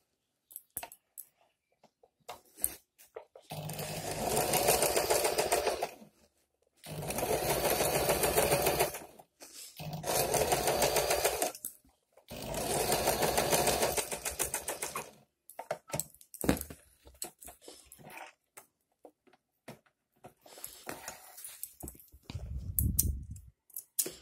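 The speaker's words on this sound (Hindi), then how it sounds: "यहीं तक स्टिचिंग लगाऊंगी क्योंकि इसके बाद से मेरा पेड आ जाएगा स्टिचिंग में" Sewing machine stitching a padded blouse in four loud, close runs of several seconds each, separated by short pauses, followed by quieter shorter stitching bursts and clicks.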